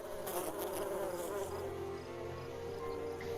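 Bee buzzing around a bucket orchid, a steady close wing drone with a fluctuating pitch that holds continuously throughout, loud and without voices.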